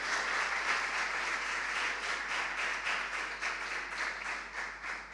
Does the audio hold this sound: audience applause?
yes